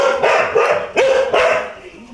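A dog barks in a forest in a natural area of Sri Lanka, giving three or four sharp, fairly close barks spaced irregularly over a couple of seconds.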